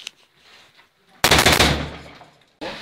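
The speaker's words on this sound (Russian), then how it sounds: "сделай туда 2-3 выстрела" A sudden loud burst of gunfire in heavy fighting at Shyrokyne, Ukraine, 2015, rapid shots blurring together and echoing, followed by quiet and another burst starting at the end.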